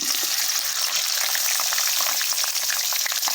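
Okra hits hot sesame oil in a kadai, giving a loud, dense, unbroken sizzle that stays steady from start to finish with no talking.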